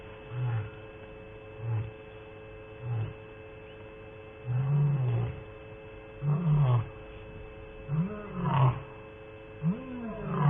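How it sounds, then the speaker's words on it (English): A black-maned lion at Thornybush Nature Reserve roars in a series of deep grunting calls that grow longer and louder toward the end, distant over a steady electrical hum. "There's a big black maned lion."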